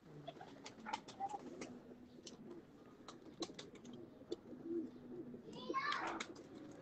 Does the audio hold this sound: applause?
no